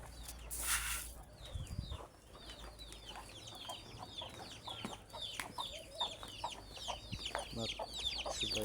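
Village chickens clucking and cheeping after being given feed, many soft overlapping calls at close to medium range with a brief bump of handling noise near the start.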